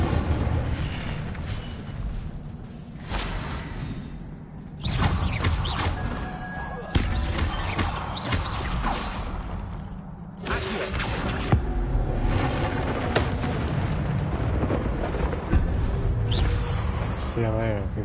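Fiery spell blasts and crashing impacts from Incendio being cast repeatedly in Hogwarts Legacy, loud booming bursts mixed with game effects and someone talking over the action.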